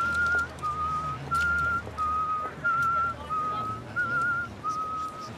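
Wagner's Siegfried Idyll whistled as a short repeating melodic phrase, clear and fairly close, over a muffled room hum with faint background noise and no speech.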